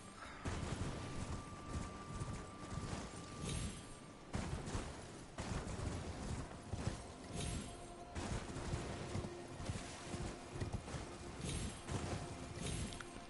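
Busy, dense Elden Ring soundscape with rapid hoofbeats of a galloping horse mixed with clatter and bursts of gunfire-like noise throughout.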